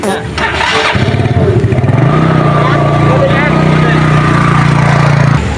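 A motorcycle engine cranks, catches and settles into a loud, steady idle close by, running for several seconds before cutting off. People talk over it throughout.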